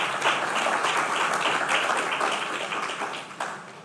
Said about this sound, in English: If you like, you can clap for this again.